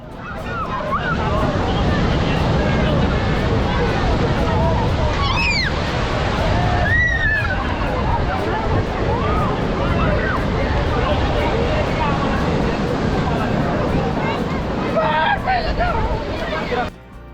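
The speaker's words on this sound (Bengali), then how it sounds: "প্রায় 5টা নাগাদ ওল্ড দীঘাতে এসে দেখি তখনও সমুদ্র স্নান চলছে।" Sea waves and a crowd of bathers at Old Digha beach in the late afternoon: steady loud surf wash under continuous crowd babble, with occasional shouts and high calls rising above it.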